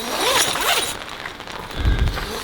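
A zipper on the walls of a Kings 270 free-standing awning being pulled, with rasping sweeps close by, followed by a low, muffled thump.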